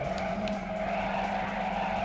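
Handbrake skid of a Lotus car in a racing game, a steady engine drone with tyre scrub held over two seconds, loud and alone.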